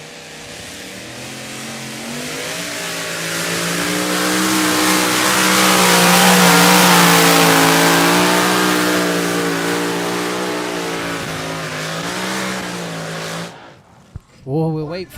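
A two-wheel drive pulling tractor roars through a run at a tractor pulling event in Bernay, France. Its engine note swells steadily to a loud sustained peak and then eases off, and the roar cuts out abruptly near the end, leaving brief scattered noises.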